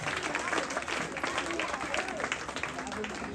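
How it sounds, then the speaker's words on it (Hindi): An audience claps for the runners-up team at an annual function debate event, a dense, steady patter of applause from a crowd with voices mixed in. "जरा रनर्स अप टीम के लिए जोरदार तालियां हो जाए।"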